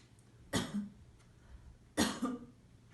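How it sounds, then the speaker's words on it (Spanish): A female patient coughs twice during a chest auscultation exam, two sharp, fairly close coughs about a second and a half apart over quiet room background. "para lo cual vamos a pedir que tosa."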